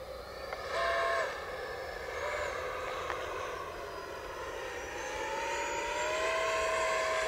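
A Saab JAS-39 Gripen 70mm EDF radio-controlled model jet makes a full-throttle pass, its steady ducted-fan whine holding loud throughout with a slight swell partway through, and no one speaks over it.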